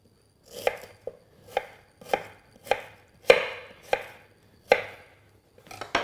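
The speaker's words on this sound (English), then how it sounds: "So thinly slice those onions." A knife thinly slices onions on a board, giving about ten crisp, close chopping taps in an uneven rhythm with quiet gaps between them and no voices.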